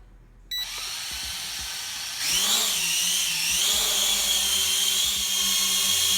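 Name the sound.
XK X300 quadcopter drone taking off and hovering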